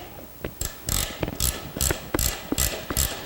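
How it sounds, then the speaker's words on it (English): A ratchet with a 5/8 socket tightens seat bolts, giving a quick run of about eight close, crisp clicking bursts in an even rhythm. "use a ratchet with a 5/8 socket, and we're just going to tighten these down"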